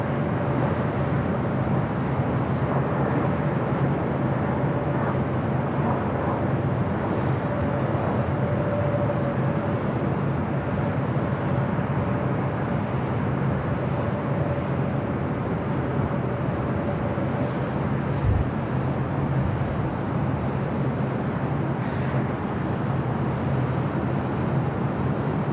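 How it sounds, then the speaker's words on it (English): A Southwest Airlines Boeing 737-700 lands at LAX, arriving from SFO; it is a long, steady broadband roar heard from a distance, holding nearly level throughout with no voices. "That was Southwest Airlines Flight 858 coming in from SFO on the 737-700"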